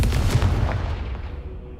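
A Confringo spell blast in Hogwarts Legacy bursts with a deep booming impact, a single explosive hit whose rumble decays over about two seconds.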